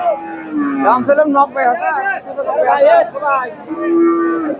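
Native dairy cow mooing at a busy rural cattle market, long loud lowing calls close by, with a crowd's chatter and voices around it.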